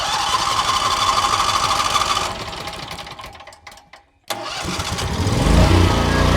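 Engine cranking and starting up, loud and close, a rapid chugging crank that sputters and briefly dies away before catching and settling into a steady, rising idle to warm up.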